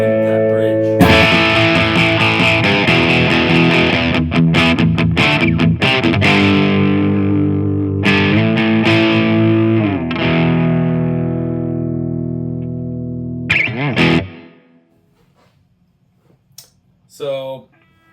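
Distorted electric guitar through a Line 6 POD Express, with upgraded pickups on a Fender Vintera 60s neck. Sustained crunchy chords and riffs ring loud and close, then stop, followed by a few brief faint sounds.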